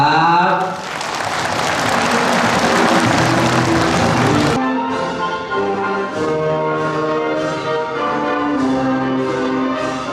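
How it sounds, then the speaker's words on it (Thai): Audience applause at a business partners' conference in a Bangkok hotel, a dense loud wash of clapping for several seconds that stops abruptly, giving way to loud music with sustained tones. "ขอเสียงปรบมือเลย"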